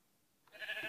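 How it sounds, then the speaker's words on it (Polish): A single short sheep bleat from the video game Minecraft, quiet and brief, rising out of near-silence. "O, są już owce."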